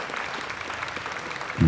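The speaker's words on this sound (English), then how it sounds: "Let's hear one more round of applause for Dan Levenson," An audience at a stage show applauds in a brief, steady burst of dense clapping, with a short low thump at the very end.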